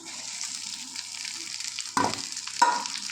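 Chopped chillies dropped into hot oil for a quick pickle, a steady close sizzle with two sharper bursts as more pieces hit the pan and are stirred, no voices.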